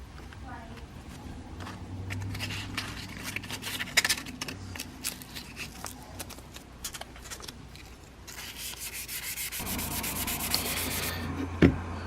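Hand sanding a forged steel knife blade with 400 grit sandpaper: steady close rubbing strokes, a brighter, harsher scraping stretch near the end, with faint low background hum.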